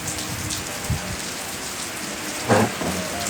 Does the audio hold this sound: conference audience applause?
no